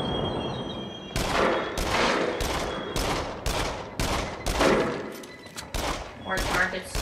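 Sharp, loud gunshots at targets in Until Dawn: Rush of Blood, a VR shooting game, firing in a ragged series of about eight to ten cracks with brief gaps, while a voice talks now and then between shots.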